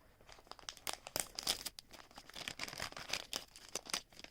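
Thin plastic packaging bag for a small knockoff brick-built SpongeBob figure being torn open by hand, giving close, quiet crinkling and ripping in uneven bursts with no talking.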